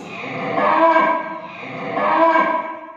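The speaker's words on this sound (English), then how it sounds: "Cow moos." A cow lows twice in a row, two long, drawn-out moos close and clear, each swelling and fading, with no other sound.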